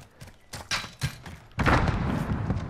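A grenade blast in a first-person shooter game, a heavy muffled thud that swells into a sustained rumbling roar after a few softer knocks, fairly close and alone without speech.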